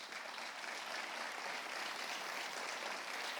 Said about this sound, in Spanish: hay dos muchachos que les vamos a recibir con un fuerte aplauso